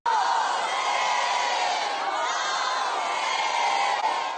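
Large crowd of Khamenei supporters filling a street, a steady loud roar of many voices shouting and chanting together, sustained without a break.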